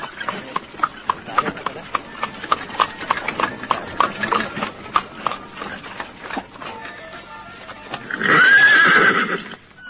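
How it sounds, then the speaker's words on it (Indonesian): Staged audio-drama effect of a horse: a rhythmic run of clip-clopping hooves gives way to a loud, close neigh near the end. "Patih Nambi melihat seorang laki-laki berkuda menghalang di tengah jalan"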